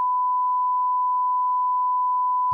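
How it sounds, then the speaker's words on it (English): A single steady censor bleep, a pure mid-pitched tone held for over two seconds alone, then cut off abruptly with a brief low thump at the end. "I'm telling you right now to beep that one out."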